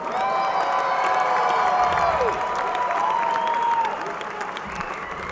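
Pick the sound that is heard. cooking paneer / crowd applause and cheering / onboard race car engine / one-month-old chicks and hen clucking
crowd applause and cheering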